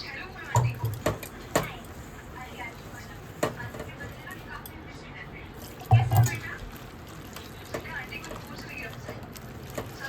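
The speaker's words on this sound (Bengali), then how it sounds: "এবার আমি অল্প অল্প করে জল দেব।" Water trickles little by little into chili fritter batter (lonkar chop) being mixed by hand, a steady wet hiss with a few soft splashy knocks, close and moderately quiet.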